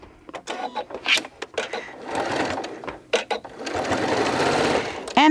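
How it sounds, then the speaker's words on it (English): A sewing machine stitches a zipper case closed, running in short bursts at first and then in a longer steady run, fairly close and clear, with brief stops in between. "we're going to go to the sewing machine, and we're going to stitch this closed"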